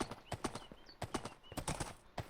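A horse in a video game clip-clops along in quick, uneven hoofbeats, with a brief high whinny rising over the steps; the sound is close and fairly quiet.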